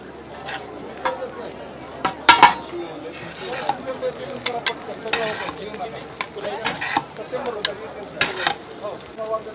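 Tawa pulao fries on a griddle at a family food stall while a spatula scrapes and taps through it in quick irregular strokes over a steady sizzle, with occasional voices in the background.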